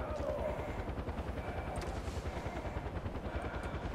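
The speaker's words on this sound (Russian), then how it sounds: "это вертолет, прикинь" Helicopter in the video game Far Cry 4, a steady low rotor drone with dense chopping pulses throughout, loud and continuous, with faint mechanical clatter on top.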